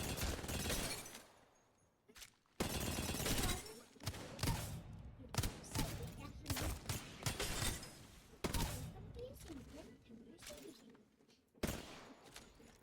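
Gunfire from shooting targets on a video game firing range during aim training: bursts of rapid shots and impacts in clusters, loud and close, separated by short quiet gaps.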